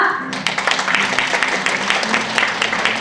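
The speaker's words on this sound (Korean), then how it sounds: "나오실 때 큰 박수 부탁드립니다" Applause from an audience at an education seminar for parents, a steady patter of many hands clapping, fairly close and continuous for a few seconds.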